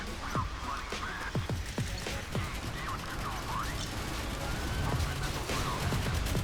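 Warship guns fire in Modern Warships during a naval battle, a rapid series of sharp cracks and booms over a dense roar of combat noise, with whistling projectile sounds and a voice talking over it.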